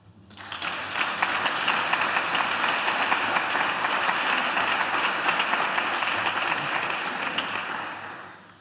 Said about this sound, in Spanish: Yo pido un aplauso para todos